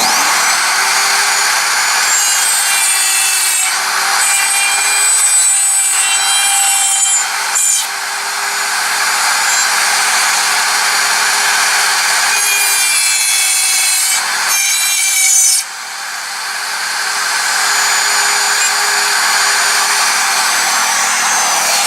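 A router fitted with a dovetail bit cuts into wood for a Shaker-style table, a loud, steady high whine running almost continuously at close range with a few brief dips.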